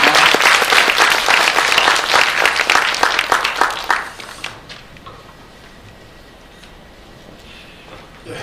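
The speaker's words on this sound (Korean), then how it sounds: "큰 박수로 맞아주시기 바랍니다." Applause from a forum audience welcoming a professor to the stage at a Sejong Institute launch event, loud and dense at first, then thinning and fading after about four seconds to quiet room tone.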